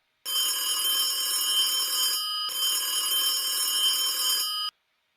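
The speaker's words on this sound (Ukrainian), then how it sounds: "та тільки приліг тут дзвінок" An old telephone bell rings loud and close in two long bursts with a short break between them, bright and metallic, then stops abruptly.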